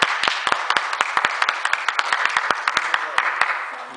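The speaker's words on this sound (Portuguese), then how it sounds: "Salve de palmas para o Reginaldo." Audience applause for a man named Reginaldo during a church lecture on the Holy Spirit, a modest group clapping in quick irregular claps, fairly close, sustained for several seconds.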